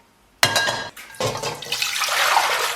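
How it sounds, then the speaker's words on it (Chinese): Tap water runs into a cooking pot for turkey-flavored instant noodles, starting abruptly with a clattering splash and settling into a steady, close rushing stream. "先给它来点92年自来水啊"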